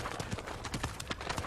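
Horse hooves clip-clopping on the ground in a steady, uneven rhythm of quick thuds, faint and somewhat distant, with no talk over them.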